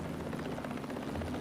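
An Allied helicopter gunship from the game Mercenaries 2 gives a brief, steady rotor thump and engine drone, close and continuous without pause.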